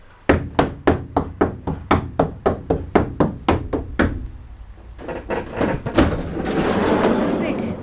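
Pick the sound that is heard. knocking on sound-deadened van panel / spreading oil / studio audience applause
knocking on sound-deadened van panel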